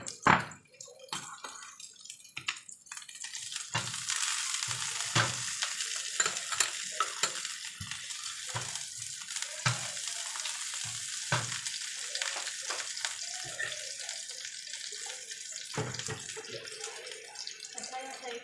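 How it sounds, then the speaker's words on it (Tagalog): Chopped garlic fries in a pan, a steady close sizzle and hiss running throughout, punctuated by repeated scraping and stirring knocks. "Ngayon maglagay na tayo ng ating bawang. Ito yung natastat ko na bawang guys."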